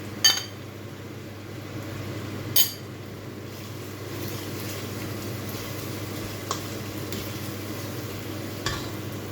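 Garlic paste frying in a cooked tomato and onion masala gives a steady low sizzle, with a few sharp clinks of a spoon against the pot; no talking.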